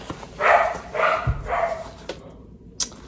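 A dog barks three or four times in quick succession, fairly close and loud, followed by a short pause and a sharp knock.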